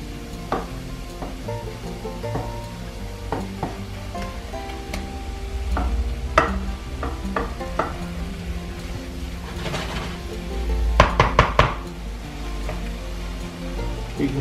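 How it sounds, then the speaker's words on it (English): Vegetables sweat and simmer in a pan with a steady soft sizzle. Occasional clinks and stirring sounds rise over quiet background music. "And let that cook in there now like that and sweat through."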